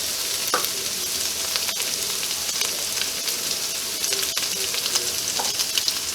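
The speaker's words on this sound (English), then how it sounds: "let that fry up, come together" Pork fried rice sizzles steadily in a hot pan, a continuous close frying hiss with occasional clicks and scrapes of a utensil, no voices.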